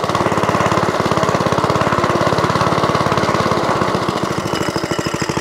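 Vintage Suffolk Corporation Mk2 lawnmower engine running at throttle, a loud close rapid putter with a steady pulsing beat that eases slightly near the end.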